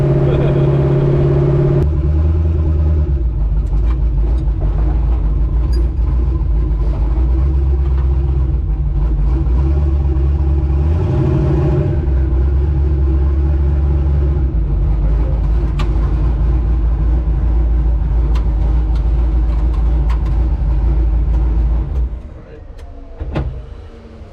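A turbocharged Chevrolet S10 pickup cruising on the road, its engine giving a steady, loud low drone inside the cab that drops away near the end; people talk over it.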